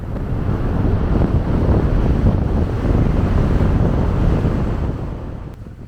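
The Chenab river rushes along a mountain road toward Kishtwar, a dense steady roar of flowing water mixed with wind buffeting the microphone, loud and unbroken before easing slightly at the end.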